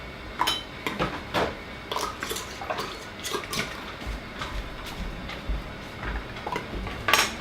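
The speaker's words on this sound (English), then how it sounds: "We put the lids on, we put the rings on, we just do them like hand tight" Metal lids and rings clinking and scraping as they are screwed hand-tight onto glass canning jars of Tendergreen beans, a run of irregular close taps and rattles over faint running water.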